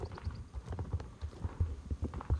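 A bay horse in the Star Stable video game clip-clops along in a steady, quick rhythmic gait, hoofbeats soft and fairly faint with no other sounds over them.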